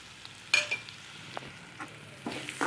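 Coconut and tamarind sauté in a pan for a pirandai chutney, giving a soft, close sizzle broken by a few sharp scrapes and clinks of a spoon stirring against the pan.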